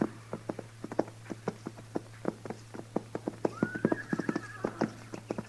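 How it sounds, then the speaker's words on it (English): Horses walk on hard ground, their hooves clip-clopping in a loose, overlapping rhythm, with a horse whinnying partway through over a low steady hum. "Mr. Dillon, what do you figure them horses are doing down there?"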